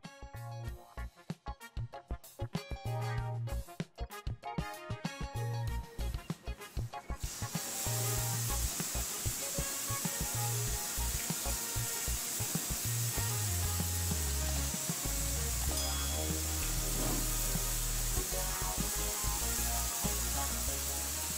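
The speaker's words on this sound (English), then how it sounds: "Just some fun with spraying hot water on the cool walls." Hot water sprayed from a hose onto cool, freshly applied brown-coat stucco walls of an earth-sheltered house makes a steady, loud spray hiss. It runs almost unbroken through the second two-thirds, after scattered clattering noises at the start.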